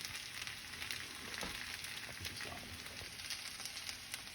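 Potatoes and onions fry uncovered in a pan, making a soft, steady sizzle with fine crackling all the way through. The sound is close but quiet, with no voices.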